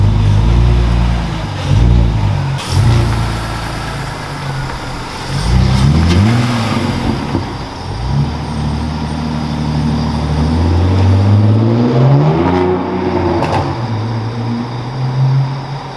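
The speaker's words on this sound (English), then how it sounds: "I'm going to take the car around the yard and get it nice and hot and put it back over the pit" A BMW E46 engine revs repeatedly as the car drives around a yard, rising and falling through several loud throttle pulls with steady mid-range engine drone between them, close by and no talking.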